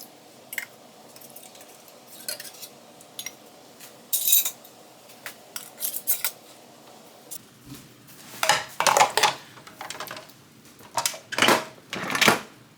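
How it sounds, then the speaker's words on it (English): Beef-filled canning jars get their rims wiped and metal lids and rings fitted, giving a run of close clinks, scrapes and clatters that grow busier toward the end, with no talking. "now I'm going to wipe the rims and get some lids and rings on these"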